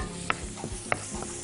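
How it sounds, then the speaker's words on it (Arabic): Garlic sizzling in ghee in a hot pan on the stove, a steady close frying hiss broken by a few sharp clinks and stirring scrapes, with no talking. "التومة على النار مع السمنة"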